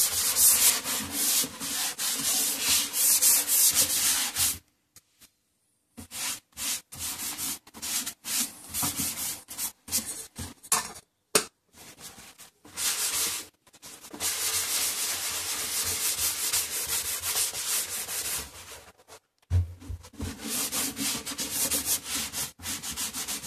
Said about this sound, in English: After the lacquer, also some wax has been applied and later polished.